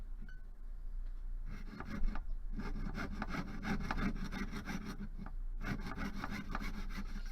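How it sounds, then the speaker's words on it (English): Handheld jeweler's saw cutting metal stock for a stamped hinge-top bracelet, steady rasping back-and-forth strokes, continuous and close, with a brief pause before the sawing resumes. "the more support you can give your metal, the easier the sawing is going to be"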